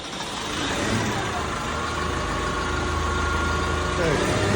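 A 2025 Schwing SP 1250 track-mounted concrete pump runs its engine at a steady, loud idle, a continuous mid-pitched drone with a low hum that holds even throughout.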